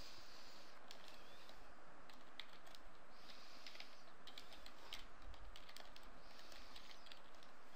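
Continuous soft keyboard typing, steady clicks throughout at low level, close and alone, with faint background noise.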